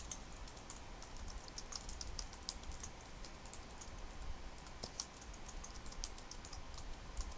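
Someone types on a computer keyboard while editing text in a Glogster tutorial, a quiet continuous patter of light key clicks in irregular bursts over a steady background hum, with no talking.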